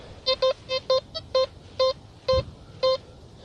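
A metal detector, a C.Scope CS4MXI or XP Goldmaxx Power V4, sounding off over a buried hammered coin, giving a string of short, crisp, evenly pitched beeps in quick bursts, clear and close over faint outdoor background.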